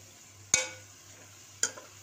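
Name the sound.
stirring tinda seeds and vegetables in a pan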